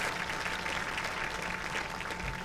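A home crowd at an indoor world bowls championship applauds, a dense, steady ripple of clapping from many hands, moderately loud and close, filling the short moment without talk.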